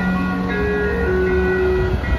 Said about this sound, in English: The K-Line train to Expo Crenshaw is now arriving.